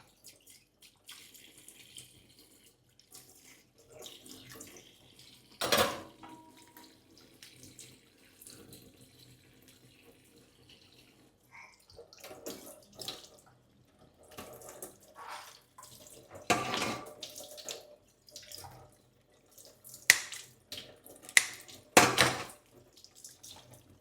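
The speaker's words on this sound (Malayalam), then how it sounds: "കഴുകി ക്ലീൻ ആക്കിയിട്ടുണ്ട്" Tap water runs and splashes in a sink while snake meat is washed clean for a curry, in intermittent bursts of flow with quiet gaps between them and louder gushes near the end.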